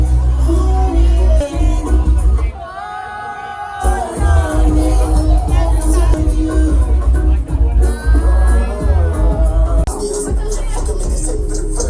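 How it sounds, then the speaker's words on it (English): A big party crowd on a boat ride chatters and shouts over loud thumping music, with whoops rising and falling close by and a brief lull partway through. "The big crowd."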